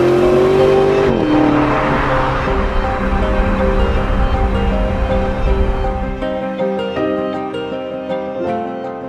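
BMW M5-powered Wiesmann GT MF5 accelerating hard, a loud close engine note rising through revs with a gear change, then settling into a steadier cruising drone.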